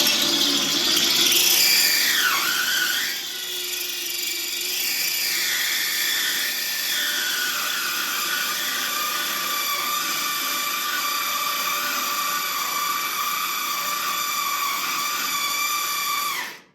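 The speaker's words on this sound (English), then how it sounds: "I'm going to try to just push the drill, or the bit this way, to elongate that hole" A power drill with its bit pushed sideways to elongate a hole in a car body panel gives a loud, sustained high-pitched whine, sweeping in pitch at first, then holding steady until it abruptly stops.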